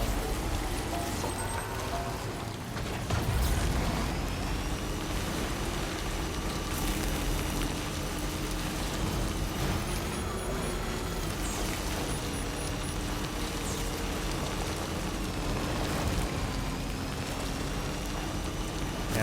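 Heavy rain in the video game Death Stranding 2, a dense continuous hiss of falling water with a low rumble underneath, steady and loud throughout, no voices heard.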